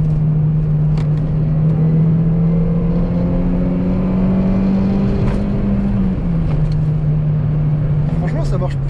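A Peugeot 206 RC pulls hard in third gear from 70 km/h with two people aboard, its engine note climbing steadily and loud from inside the cabin, briefly dipping near the end as it keeps accelerating.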